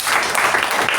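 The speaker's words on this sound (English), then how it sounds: "a round of applause for him" Brief burst of audience applause at a club meeting, a dense, continuous patter of many hands clapping for about a second.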